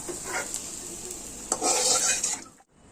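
Egg and flour pitha fry in a wok with a steady sizzle, broken by a few stirring scrapes and a louder burst of frying before the sound cuts off near the end.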